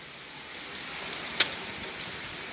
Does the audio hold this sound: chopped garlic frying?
no